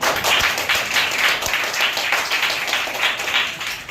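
Students clapping at a school book distribution event, a fairly close, uneven patter of hands rising and falling in small swells over a few seconds.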